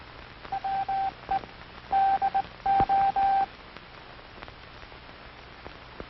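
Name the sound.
Morse code telegraph key sounds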